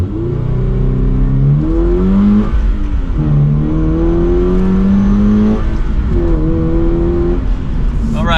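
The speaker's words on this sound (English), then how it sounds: "So I'm going to start with a 0 to 60 run, but this is with the pedal commander off." Manual Toyota GR86 accelerating hard from a standstill, its engine note climbing through the revs in loud rising sweeps, dropping briefly at each gear shift before climbing again, steady and close throughout.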